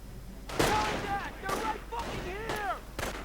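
Mortar and artillery fire in a World War II strategy video game, several heavy booming blasts spaced about a second apart, mixed with busy game sounds.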